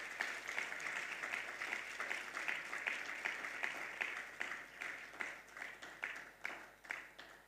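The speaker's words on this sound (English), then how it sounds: "A warm round of applause to him as he makes his way." Audience applause at a conference session welcoming a U.S. Department of Energy keynote speaker, a steady dense round of clapping sustained throughout, moderately loud and without speech over it.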